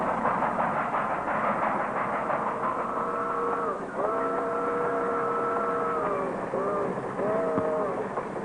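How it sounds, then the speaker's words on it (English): A train rumbles steadily, its drawn-out whistle or horn tones sounding several times in long sustained blasts. "Train stops in 5 minutes."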